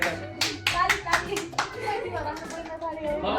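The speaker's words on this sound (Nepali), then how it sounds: "ताली बजाउने" People clap their hands at a family picnic, a burst of quick, uneven claps close by with voices talking and a voice mixed in underneath.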